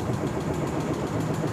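Kawasaki D-Tracker motorcycle on its stock exhaust, idling with a steady, even low rumble that stays at a constant level throughout, close by and with no talking.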